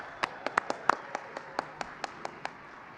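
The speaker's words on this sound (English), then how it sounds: "Let's give them a round of applause." Sparse, faint applause at a White House Easter event on the South Lawn: about a dozen separate hand claps spaced irregularly, thin and distant outdoors.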